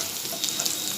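Potatoes fry in a pan for a Bengali fish curry, giving a short, close, crackling sizzle with a faint clink at the end.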